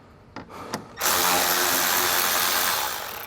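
A power tool removes 8 mm fasteners under a BMW during control arm replacement: two brief clicks, then a loud, close, steady whirring spin that holds for about two seconds before easing slightly.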